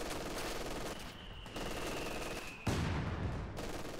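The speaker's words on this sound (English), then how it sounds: "close range MG, pretty powerful" Machine gun fire in the World War II strategy game Company of Heroes 2: dense, continuous rattling bursts at close range, a steady crackling stream with a brief break and a heavier booming burst near the end.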